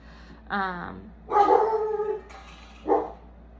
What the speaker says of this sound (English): that's why the dog's barking